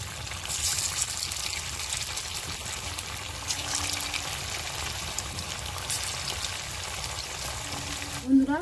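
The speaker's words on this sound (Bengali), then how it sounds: "এবারে পকোড়াগুলো ভেজে নেব" Chicken pakoras deep frying in oil over low heat: a soft, continuous bubbling hiss that holds steady throughout, with a brief clatter near the end.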